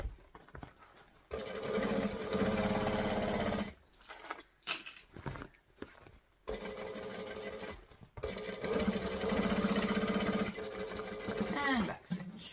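A sewing machine back stitches over a seam in several bursts, each run stopping and restarting with short pauses between, close and clear, with someone speaking during the gaps.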